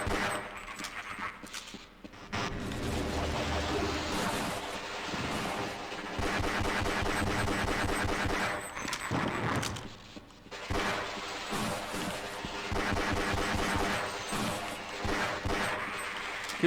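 Dense, loud bursts of automatic gunfire from the video game Half-Life: Opposing Force, rapid rattling volleys with brief pauses, mixed with game music and impact noise.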